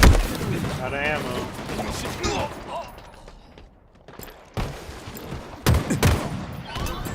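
Gunfire from the Halo Infinite multiplayer shooter in a ranked arena match on the Interference map: sustained bursts of rapid automatic fire, a lull, then sharp renewed volleys, with game voice callouts heard over the shooting.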